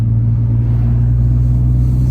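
A Nissan Skyline R32 with a single-turbo RB20 engine runs steadily, a loud, constant low rumble heard from inside or close to the car with no talking.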